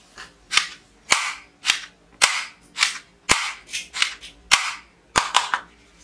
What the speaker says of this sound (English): Gunman super powerful toy gun.